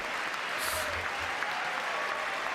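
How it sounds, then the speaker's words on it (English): Dense, steady applause from a large audience in the chamber of Congress during a presidential address, sustained without break, with faint murmuring underneath. "Okay, more clapping."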